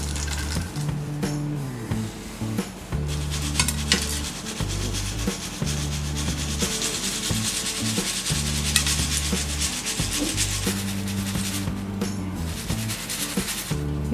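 Peanuts rubbed against a metal slotted frying ladle to loosen their skins give a continuous close, loud scraping rasp with steady rhythmic strokes throughout.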